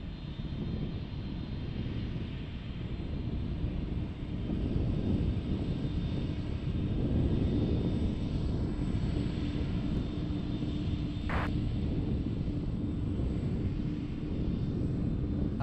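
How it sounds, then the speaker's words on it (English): A McDonnell Douglas MD-11 jet at DFW airport gives a steady, broad engine roar that holds at an even level throughout, with a faint high whine above it. "the old MD-11."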